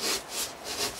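A hand saw roughly cuts through material for tabletop terrain hills in steady back-and-forth strokes, three rasping pulls in quick rhythm, close and moderately loud.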